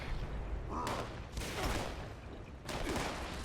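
Bursts of gunfire rake the player character in Fallout 76, several quick volleys separated by short gaps, quiet and somewhat distant-sounding.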